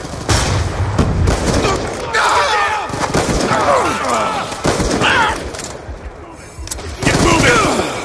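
Gunfire in a shooter video game: dense, loud bursts of rifle and automatic fire with booming blasts, nearly continuous and close, with voices calling out amid the shooting.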